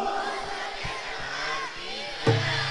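A crowd at the Raja Sahib fair in Ballowal shouts a jaikara chant, with a murmur of voices rising to a sudden loud collective shout near the end.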